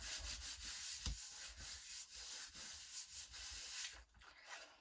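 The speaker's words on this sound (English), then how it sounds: "Turn that over and give it a good rub." A hand firmly rubs a die-cut card piece flat against a surface, making a soft, papery scrubbing that repeats in quick back-and-forth strokes, close and faint, then stopping near the end.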